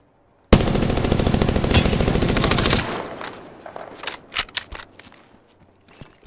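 Loud automatic gunfire in the battle-royale video game Apex Legends: a sustained burst of rapid shots for about two seconds, followed by scattered single shots and impacts that trail off.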